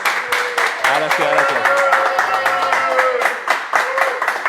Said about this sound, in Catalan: Fem un fort aplaudiment per Som-hi Penya amb l'Enric. Fort aplaudiment per ell.